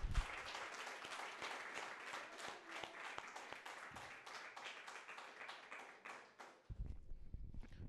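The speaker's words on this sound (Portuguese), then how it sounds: "Vamos aplaudir o Senhor bem forte?" A church congregation applauds, a dense continuous clatter of many hands clapping at a steady moderate distance for several seconds before it breaks off and a few louder thumps follow.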